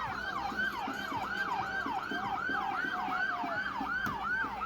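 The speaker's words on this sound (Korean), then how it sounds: "이 때문에 소방차가 출동하였습니다." A fire truck's wailing siren cycles rapidly up and down in a steady repeating pattern, fairly distant, at a street protest where a Wendy's restaurant was set on fire, over faint background noise.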